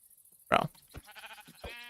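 Sheep in a video game bleating, a sharp nasal bleat followed by a few shorter, fainter bleats and grunts, close and clear.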